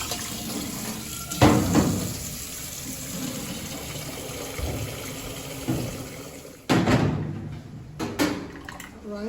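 Rice rinsed in water for Efik coconut rice, with swishing, splashing and gushes of water from a tap into a sink, plus a few louder pours and clatters.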